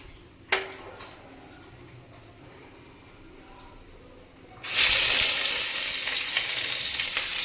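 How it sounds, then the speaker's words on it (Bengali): Panch phoron and dried red chilli frying in oil for a potato and cauliflower curry: a quiet stretch with a single click, then a sudden loud, steady sizzle bursts in and continues up close. "পাঁচ ফোড়ন আর শুকনো লঙ্কাটাকে এক মিনিট মতন ভেজে নিয়ে"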